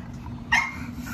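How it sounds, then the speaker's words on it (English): A single short bark or yip from a dog kept with another dog in a house, bursting out once over a low steady hum and then trailing off. "Look at these crazy dogs."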